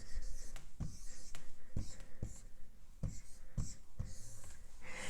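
Pencil writing numbers on paper during an addition lesson: a series of short, scratchy strokes and taps in irregular bursts, close and fairly quiet, with no talking.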